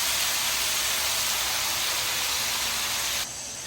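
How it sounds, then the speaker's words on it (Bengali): Fresh spinach stirred and fried in a hot pan for palong shaak chorchori, making a loud, steady, close sizzling hiss that drops a little right at the end. "এখন দিচ্ছে পালং শাক।"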